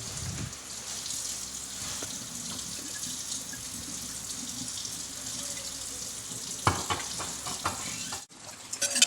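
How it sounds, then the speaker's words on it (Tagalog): Seasoned beef sautéing in a pan gives off a steady, close sizzle throughout, with brief stirring scrapes near the end. "Igisa na natin ang ating beef"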